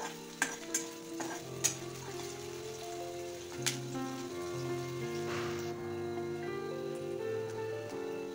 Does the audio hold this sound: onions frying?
yes